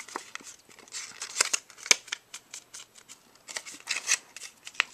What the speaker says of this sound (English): Fold your paper.